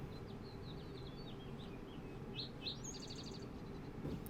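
Several small birds chirp and twitter faintly over a low, steady outdoor rumble, short calls scattered across the clip.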